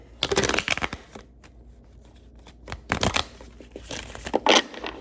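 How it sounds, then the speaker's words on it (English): Tarot cards are shuffled by hand in quick, crisp riffling bursts, close and fairly loud, with short pauses between rounds and no talking. "Good shuffle."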